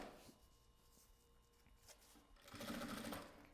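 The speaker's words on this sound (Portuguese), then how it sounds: "eu vou passar uma costura definitiva, dando retrocesso no começo e no final" A sewing machine stitching a fabric lining to a zipper, first quiet and intermittent, then running in a steady, loud, close whirring burst near the end, with no voices.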